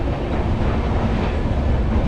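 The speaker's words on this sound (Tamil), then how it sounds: "அடுத்ததாக இப்போது ட்ரெயின் உள்ளே என்ட்ராகிறது தான் வந்து உங்களுக்கு ஷொர்ணூர் ஜங்ஷன்." A long-distance superfast express train rolls into Shoranur Junction, a steady loud rumble of wheels and carriages filling the whole span without talk.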